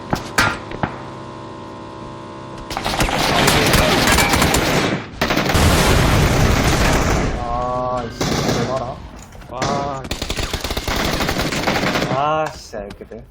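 PUBG Battlegrounds gunfire rings out in loud sustained automatic bursts and separate shots, with short gaps between volleys, while players talk over the action.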